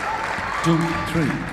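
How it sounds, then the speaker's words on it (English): Local crowd at the Qatar Classic 2022 squash match applauding after a point, light clapping under a commentator calling the score, with a brief swell near the end. "I can hear the response from the local crowd"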